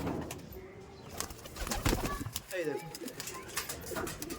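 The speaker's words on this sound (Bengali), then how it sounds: "এই যে এটা হলো রামপুরি পায়রা আর টেডি পায়রা" Rampuri and teddy pigeons coo softly nearby, low rolling calls mixed with shuffling and clicks while someone talks over them.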